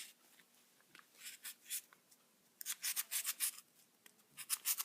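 A razor blade slices through wound yarn while making a pom pom, heard as short, quiet scraping strokes repeated in quick bursts with brief pauses between them.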